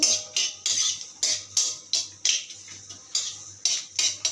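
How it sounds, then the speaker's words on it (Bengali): A utensil stirs cumin seeds and curry leaves in oil in a pan, making a steady run of about a dozen scraping, clinking strokes roughly every third of a second, close and clear. "দিয়ে দেবো গোটা জিরে, পরিমাণে কারি পাতা। ভালো করে একটু নেড়ে চেড়ে নেব।"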